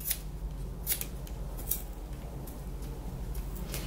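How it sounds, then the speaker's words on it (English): Scissors snip through yarn wrapped around a knitted pom-pom for a Christmas candy cane wreath, giving a few quiet, crisp cuts spaced irregularly over a low background hum. "you just cut all the way around the pom-pom"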